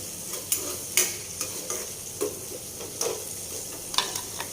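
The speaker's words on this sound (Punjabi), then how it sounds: "ਨਾਲ ਹੀ ਆਪਾਂ ਇਹ ਹਰੀ ਮਿਰਚ ਪਾ ਦੇਣੀ ਇਹਨੂੰ ਥੋੜਾ ਸੌਟੇ ਕਰ ਲੈਣੇ ਆ" Green chillies sauté with tomatoes in a pan for baingan bharta, giving a continuous close sizzle with the scrape and clack of a stirring spoon at irregular moments.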